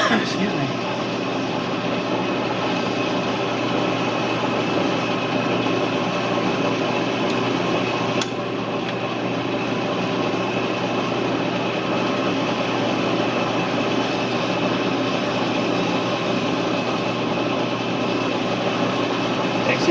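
Small tractor engine running steadily and straining under load, its note dragged down by a loose drive belt; a continuous, fairly loud drone holds for the whole stretch with no voices heard.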